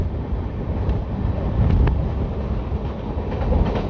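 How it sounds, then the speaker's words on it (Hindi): The 12425 New Delhi–Jammu Tawi Rajdhani Express passes near Ludhiana, a loud, continuous rushing rumble with wind buffeting that swells in the middle, with no talking. "सामने से आ रही है 12425 नई दिल्ली जम्मू तवी राजधानी"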